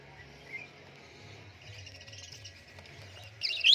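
Budgerigars chirping in a bird setup at a pigeon seller's loft: faint, sparse high twitters over a low background hum, swelling into a brief louder burst of chirps at the end.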